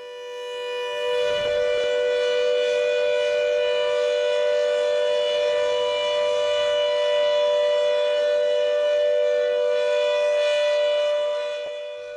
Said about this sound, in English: sirens, still functioning as flood warning, chemical and nuclear disaster warning sirens in the UK in 2021